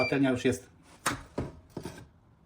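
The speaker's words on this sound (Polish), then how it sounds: "a ja biorę się za krojenie warzyw" A knife chops vegetables on a cutting board in a home kitchen, with three or four sharp separate cuts following a voice speaking at the start.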